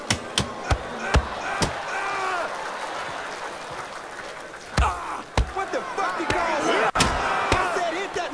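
Punches landing in a Mafia 3 video game fistfight: sharp, heavy thuds strike in quick clusters at the start and again near the end, over a rowdy crowd shouting and cheering throughout.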